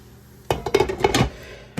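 A lid set onto a pan of cooking chickpea and potato tacos: a short burst of metallic clinks and rattles, close and clear, followed by a single knock after a pause.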